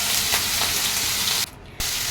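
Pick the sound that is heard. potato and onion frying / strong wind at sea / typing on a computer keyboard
potato and onion frying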